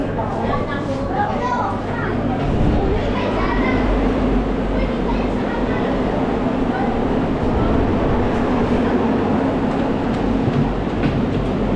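A train on Penang Hill, Malaysia, rumbles and clatters continuously as it pulls into the station, with muffled voices and platform noise mixed underneath.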